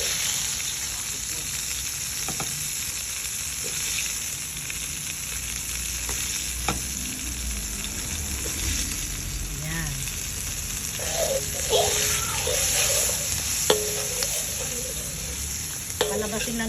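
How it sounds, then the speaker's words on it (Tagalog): Onion sautéing in melted butter and oil crackles with a bright, steady sizzle close by, broken by occasional spoon stirs and light clinks, with no talking over it. "So habang sinusutay ko ang butter, ilalagay na natin ang sibuyas"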